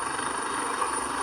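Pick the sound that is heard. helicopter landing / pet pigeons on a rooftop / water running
helicopter landing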